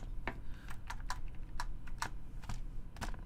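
Quick, irregular clicks of keys being typed on a computer keyboard, close and fairly quiet, with no talking over them.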